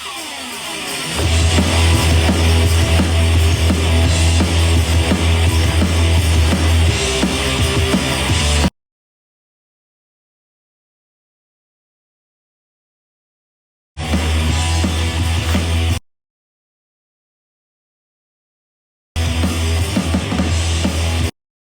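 An early song by an Afrikaans band plays loudly as a full band recording, heard in three separate bursts with silent gaps between them and no talking.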